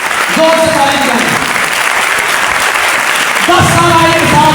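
Loud, sustained clapping from a church congregation fills the space without a break, with sung or spoken voices rising above it at the start and again toward the end.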